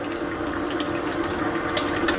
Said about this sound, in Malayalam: നമ്മുടെ കറി നന്നായിട്ട് തിളച്ചിട്ടുണ്ട്